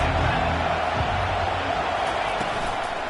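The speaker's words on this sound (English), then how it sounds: "This crowd trying to make life miserable for this offense." Stadium crowd at an American football game, a dense continuous roar that fills the space evenly with no distinct cheers standing out, loud and close throughout.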